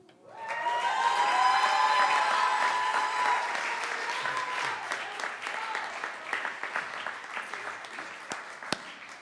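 Applause from an open-mic audience after a poetry reading, swelling quickly into dense, steady clapping that slowly thins into scattered claps with a few sharp, close hand claps near the end.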